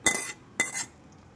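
A metal spoon clinks twice against the pot while tempering is stirred into homemade amla and sesame pickle. The two bright strikes are close and about half a second apart, with nothing else around them.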